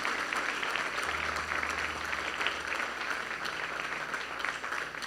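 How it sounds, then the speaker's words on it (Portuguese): Congregation applauding at a Brazilian family church service, a steady wash of handclaps that holds at even strength throughout with no voices over it. "Você pode dar uma salva de palmas para Jesus?"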